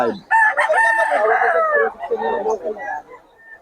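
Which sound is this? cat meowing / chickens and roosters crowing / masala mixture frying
chickens and roosters crowing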